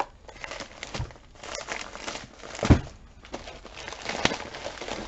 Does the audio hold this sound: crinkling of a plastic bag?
yes